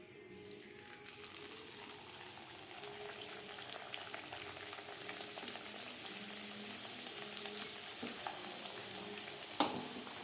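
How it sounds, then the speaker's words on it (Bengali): Papdi, crisp fried dough wafers, bubble and fry in hot oil in a continuous, fairly quiet sizzling hiss with a few small clinks near the end. "পরের ব্যাচের পাপড়ি একইভাবে ভেজে নেব"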